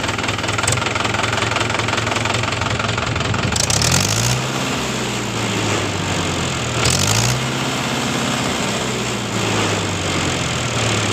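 A 2017 Mahindra 575 DI tractor engine runs close and loud with a knocking diesel chug, revving up twice with rising then settling pitch over the steady idle; no one speaks.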